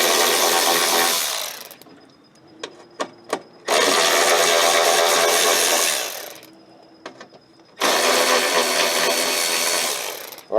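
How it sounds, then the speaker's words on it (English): A Milwaukee power ratchet with a 7mm socket runs in three long, loud whirring bursts, separated by short pauses with a few clicks, while working on a K5 Blazer dashboard. "that we're doing on this Milwaukee. So a 7mm ratchet"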